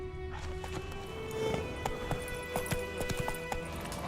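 Roach the horse gallops in a video game, with rapid rhythmic clip-clop hoofbeats close and steady over a low background, and a brief whinny-like tone early on.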